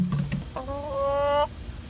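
Chickens cluck up close, with a few short clucks followed by one drawn-out, rising squawk, then quiet.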